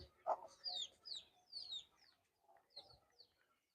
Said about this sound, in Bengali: এগুলো হল দেশি মুরগির বাচ্চা